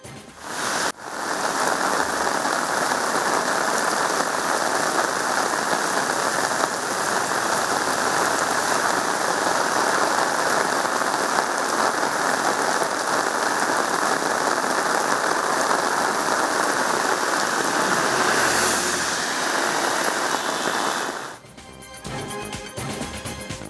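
Heavy overnight rain pours down in Bengaluru, a loud, even roar of drops hitting surfaces that holds steady for most of the stretch, then cuts away near the end.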